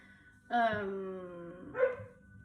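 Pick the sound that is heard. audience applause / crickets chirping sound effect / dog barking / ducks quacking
dog barking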